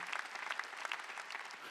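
A church congregation bursts into brief applause during a sermon, a short burst of dense, lively clapping.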